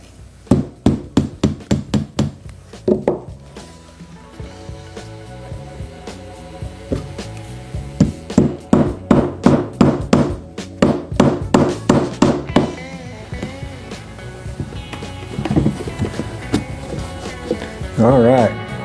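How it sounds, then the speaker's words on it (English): An old hand hammer, handed down from a grandfather, drives fasteners into a fabric-covered piece, with sharp, ringing blows in quick bursts separated by pauses; a person talks between and over the strikes. "I use my grandfather's hammer to drive these in."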